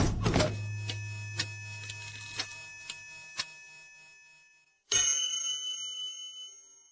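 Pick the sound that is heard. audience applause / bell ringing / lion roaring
bell ringing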